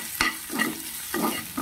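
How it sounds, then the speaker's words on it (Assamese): Onion, garlic and ginger frying in a pan, heard as short scraping stirs about every half second over a soft background sizzle, close and fairly quiet. "অলপ সময় ভাজিব লাগিব"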